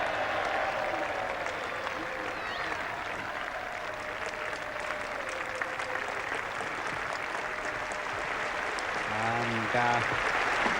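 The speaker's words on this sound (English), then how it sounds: "big applause for the 50 partnership." A cricket crowd at a 1981 Ashes Test applauds England's 50 partnership with a steady, even wash of clapping from a distant stadium, and a voice comes in briefly near the end.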